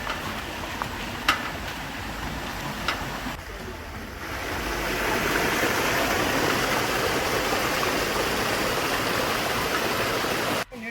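Water rushes in a steady broadband roar, like a stream flowing nearby, growing louder and fuller partway through with a few faint knocks.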